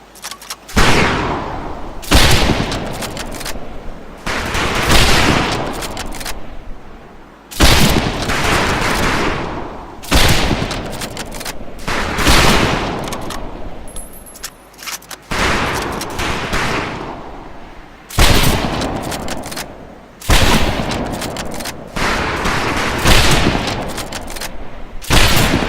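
Rifle volleys crack on a shooting range in Medal of Honor: Pacific Assault, loud repeated bursts of several shots at once, about ten volleys spaced a couple of seconds apart, each with a short echoing tail.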